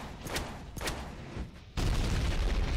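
Shotgun blasts in the Deadpool video game come as two sharp reports followed by a heavier sustained roar of firing and action noise, fairly loud within the game mix.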